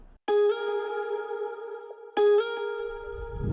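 A plucked guitar-like tone rings out twice, each note washing into a long, spacious reverb tail that lingers and fades.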